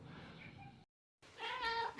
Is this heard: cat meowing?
yes